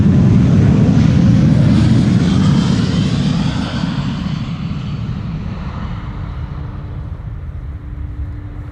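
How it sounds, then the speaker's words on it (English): KLM Boeing 737-700 airliner at Amsterdam Schiphol Airport, a loud, close jet roar that gradually fades as it moves away, leaving a fainter rumble and a low steady hum. "This is another 737-700."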